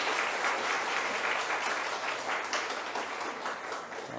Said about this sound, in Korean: 우리의 빛이 되신 예수님께 큰 영광의 박수 올리겠습니다